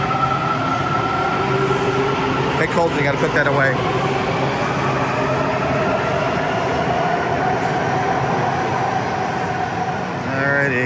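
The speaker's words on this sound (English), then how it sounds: "That train's going in the opposite direction." A subway train rumbles past in an underground station with a steady clattering roar and faint wheel squeal, while a person talks over it nearby.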